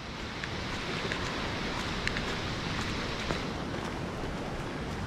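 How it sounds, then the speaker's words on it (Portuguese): Steady rain falls outdoors after a brief intense downpour, an even broadband hiss with scattered drop ticks, moderately loud and constant throughout, with no voices. "Tá chovendo bem mais fraco agora"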